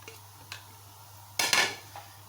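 Chopped seasonal fruit being mixed for a creamy fruit chaat in a bowl, faint light taps followed by a short, sharper clatter of a spoon against the bowl and a final soft clink.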